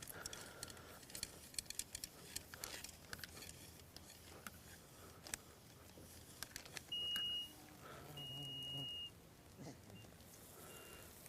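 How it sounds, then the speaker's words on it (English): A water level meter probe lowered into a well gives two short electronic beeps, a brief tone and then a slightly longer one, fairly close and clear over faint background noise. "we just drop this guy down in there until it beeps and read the marks off the tape"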